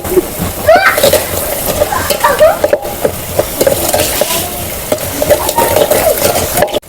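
Vegetables hit hot fried chutney masala in a pan on a wood-fired stove, setting off a loud, close, continuous sizzle with stirring scrapes and splatter.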